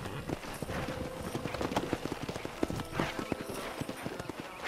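Horse hooves clip-clop at a gallop in the Western video game Red Dead Redemption, a busy, steady pounding rhythm with a whinny in the mix and a faint voice under it.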